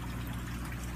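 Steady, dense bubbling and gurgling water from air stone discs in an aquaponic fish tank and flood bed inside a greenhouse, loud and continuous.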